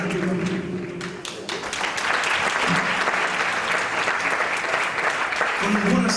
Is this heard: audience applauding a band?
yes